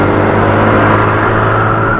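A car engine revs hard up to high RPM and is shifted through the gears without the clutch, a loud continuous drone that fills the whole stretch with no voices.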